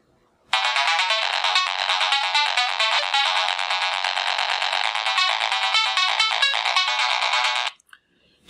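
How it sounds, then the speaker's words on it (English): A bright electronic ringtone melody plays loudly for about seven seconds, quick repeating notes, starting and stopping abruptly against silence. "select the portion of the music that you want to copy as a ringtone"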